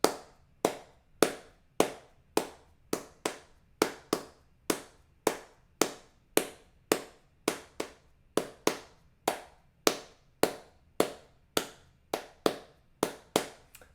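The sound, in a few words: people clapping along to a ukulele play-along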